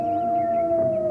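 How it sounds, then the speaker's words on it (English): At an opening ceremony for the 1994 Commonwealth Games in Victoria, Canada, a single long, steady howling cry holds one sustained tone, loud and near, with no speech over it. "He turned to the north and howled a haunting cry."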